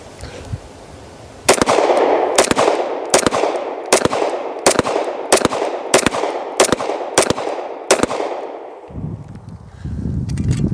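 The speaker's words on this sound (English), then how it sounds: "really fun pistol to shoot, so we'll send some rounds down range" A FEG Hi Power pistol fires about eleven sharp, loud shots at a steady pace roughly every 0.7 seconds, each crack trailing a brief echo, followed by a faint clatter once firing stops.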